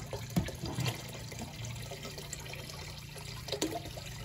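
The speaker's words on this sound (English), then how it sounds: "I'm going to open up this valve now and let any excess drain." Water drains steadily out through an opened valve, a soft continuous rush and trickle heard faintly and alone, with a few small splashes.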